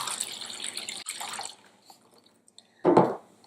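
Water pours into a sterilising dish holding used probes, a steady close running splash that trails off, followed by a short louder gush.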